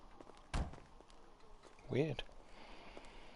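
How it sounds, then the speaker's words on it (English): A door bangs twice inside, a sharp thud near the start and a second, rattling knock a moment later, both close and fairly loud against a quiet room. "What is going on with that door?"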